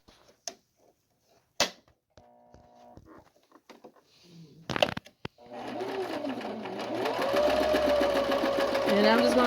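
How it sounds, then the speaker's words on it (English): A sewing machine stitches around the edges of a fabric face mask, starting after scattered handling clicks and thumps, then running as a steady, close, continuous whirring buzz for the last few seconds. "I'm just going to sew around the edges."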